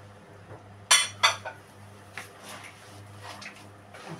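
Metal spoon clinks and scrapes against a bowl while bulgur is mixed with baking powder, two sharp knocks followed by softer intermittent stirring sounds, close and alone.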